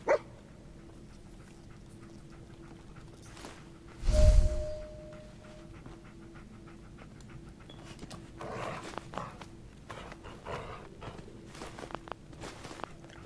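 Dogmeat, the dog companion in the video game Fallout 4, gives one loud bark near the start. Soft whimpers and pawing footsteps follow over a steady low background hum, with no talking.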